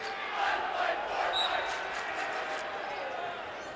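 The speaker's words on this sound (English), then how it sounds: "I just heard a new cheer at the tournament." Crowd noise from a high school girls' basketball student section at the 2022 Iowa state tournament 4A quarterfinal, a steady roar of shouting and cheering voices in an arena, fairly distant and sustained throughout.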